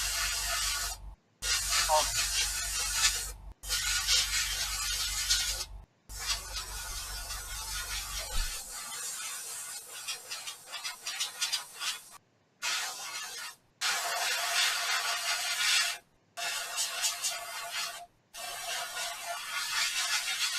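Bursts of hissing from a spray gun running at about 70 PSI, spraying neat, come in several separate blasts with short silent gaps; a low hum fades out partway through.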